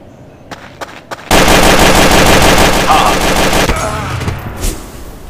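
Sustained loud automatic gunfire from Counter-Strike: Source, a dense continuous burst of rapid shots that starts abruptly after a second of quiet and runs for several seconds, with a few isolated shots before it.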